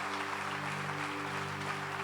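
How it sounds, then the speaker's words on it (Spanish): A church congregation gives a loud, continuous round of applause, a dense even wash of many hands clapping together, with a sustained musical drone or organ-like chord running underneath. "Un aplauso fuerte al Señor."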